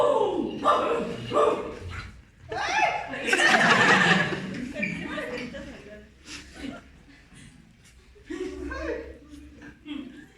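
Dog-like growls and barks from the character Bico burst out during a Zapotec-language stage play, loud and close, mixed with audience laughter and lively talk; they may be an actor's voice imitating the dog.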